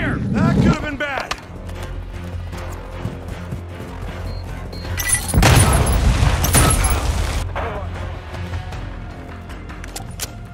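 Cluster strike explosions in Call of Duty Modern Warfare II: a loud, dense rumbling barrage of blasts lasting a couple of seconds in the middle, set against steady game ambience, with radio callouts spoken before it.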